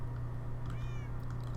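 A Minecraft cat meows once in a rising, slightly wavering call that sits over a constant low game hum, with no talking.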